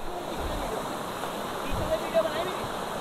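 A hidden waterfall near Dehradun with icy water gives a steady faint rush of falling water, close and continuous, with a few light bumps and handling sounds and no clear speech.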